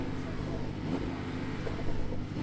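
A Porsche 911 Turbo engine rumbles steadily with a low, even drone, fairly close, with no voices over it.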